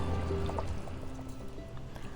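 Water poured into a pot of birria sauce with oregano, onions and garlic, a steady low liquid gurgle and splash running the whole time, close and moderately quiet.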